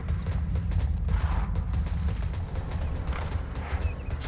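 Horse hooves clip-clop steadily as a mount is ridden in the online game TERA, the rhythmic thuds sitting over a dense, loud low rumble of game sound with no talk.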